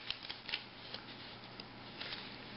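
Scissors snip through a paper Möbius strip, several short crisp cutting clicks spaced irregularly, close and fairly quiet over a steady background hiss.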